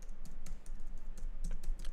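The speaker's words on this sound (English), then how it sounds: "So I'll just type in the comment" A computer keyboard clatters as someone types a shop code: a quick run of light keystrokes, close and fairly quiet, with no talking over them.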